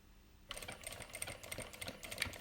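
A JACK industrial sewing machine starts up after a quiet half second and runs steadily through fabric, giving a busy rapid mechanical chatter that holds at a fairly even level with no voices.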